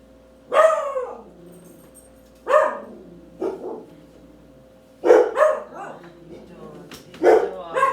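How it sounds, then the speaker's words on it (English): Dogs in a home kitchen let out several loud, close barks in separate bursts spread across the stretch, with brief gaps of quiet between them. "These dogs."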